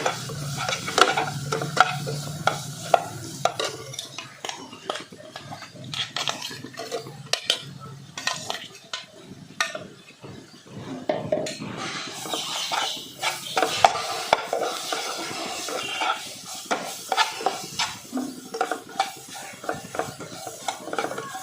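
Ground moong dal is stirred and sautéed in a pan over low heat, with a continuous sizzle broken by frequent spoon scrapes and clinks against the pan, loud and close, no speech.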